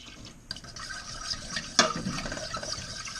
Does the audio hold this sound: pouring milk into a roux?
yes